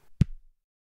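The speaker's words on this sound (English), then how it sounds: "I layered two different sounds to create a kick drum." A single punchy kick drum hit layered from two sounds, deep and boomy with a short bright high-end slap, decaying quickly into silence.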